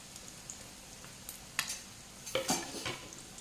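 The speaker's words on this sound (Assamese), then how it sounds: "কিছু সময় ইলুটি সিলুটি কৰি ভাজিলোঁ" Bread pieces frying in a pan give off a soft, low sizzle, broken by a few sharp scrapes and clinks of stirring near the end.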